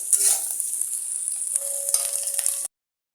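Food frying in a pan gives a steady hiss and sizzle with light stirring, close and moderately loud, cutting off abruptly near the end with no speech.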